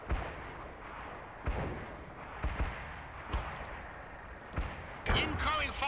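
Incoming artillery strikes in the World in Conflict strategy game land as a series of sharp, booming impacts spaced a second or so apart, with brief radio-style chatter and an electronic tone between blasts.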